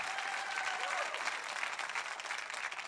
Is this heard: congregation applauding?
yes